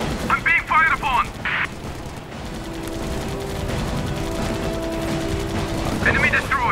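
Aircraft guns in the Pacific carrier combat game Air Conflicts Pacific Carriers fire in short rapid bursts among engine drone and in-game radio chatter, with a steady hum through the middle.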